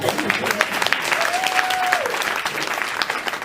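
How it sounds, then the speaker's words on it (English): A roomful of supporters at a Democratic gubernatorial event for Walt Maddox claps loudly and steadily for the statewide and local candidates on the ballot, a brief whistle rising above the crowd's applause. "And that deserves a round of applause"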